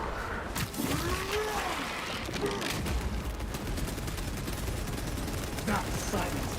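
Gunfire in the Space Marine 2 video game, a dense, continuous spray of shots mixed with clanking battle effects, loud and close throughout with a voice speaking over it.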